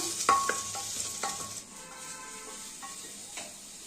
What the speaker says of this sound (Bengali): ঘিয়ের মধ্যে এই গাজরগুলো দিয়ে এখন একটু নাড়তে থাকবো